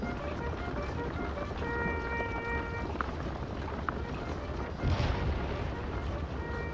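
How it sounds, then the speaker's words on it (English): Artillery fire in Scourge of War: Gettysburg, a Civil War battle game set on July 1st, heard as a steady rumbling battle din with a few sharp cracks and a heavier distant boom near the end, no speech over it. "I think our artillery is opening up already."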